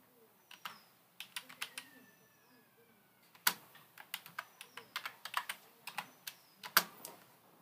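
Typing on a computer keyboard while filling a name into an online ITI trainee verification form, with irregular bursts of crisp key clicks close up, some quick runs and pauses, and a person talking faintly at times.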